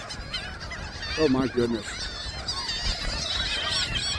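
A dense flock of seagulls calls overhead on a beach at the North End of Villas, New Jersey, with overlapping squawks and cries over steady wind and surf, and a person briefly exclaims partway through.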